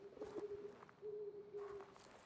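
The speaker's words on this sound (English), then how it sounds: "What sound like pigeons?" Pigeons coo softly in a video game, a low steady hooting call held in two drawn-out phrases with a brief break between, faint and alone.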